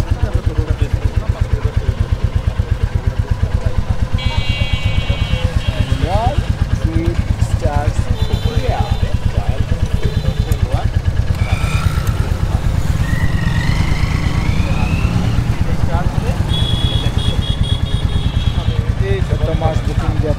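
A Royal Enfield motorcycle engine idles with a steady, rapid low thumping that runs unbroken from start to finish, while people talk close by over it.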